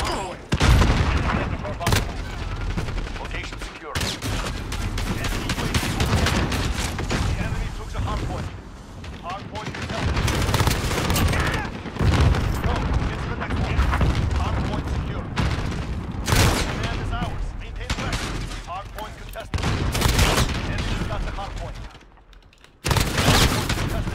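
A gunship killstreak rains fire on the small Shipment map in Call of Duty: Modern Warfare: loud, dense bursts of gunfire and heavy booms pound almost without pause, briefly dropping away near the end before resuming.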